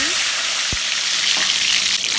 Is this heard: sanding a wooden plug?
no